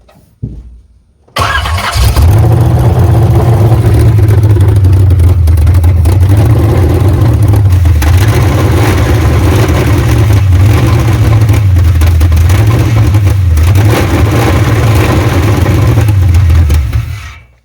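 A 383 engine in a Chevrolet C10 truck cranks and catches, then runs steadily and loudly with an uneven, lumpy rough idle that pulses rhythmically for about fifteen seconds before cutting off.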